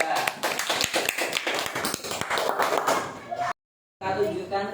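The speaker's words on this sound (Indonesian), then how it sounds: "Kita tepuk tangan untuk kelompok 3" A classroom of students applauds a student group with a steady burst of clapping that cuts out abruptly, followed by a voice speaking.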